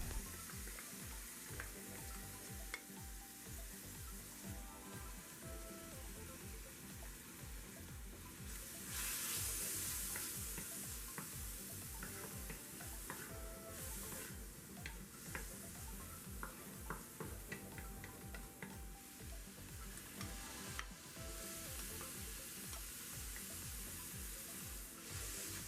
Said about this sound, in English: The next thing is to saute the onion and the garlic.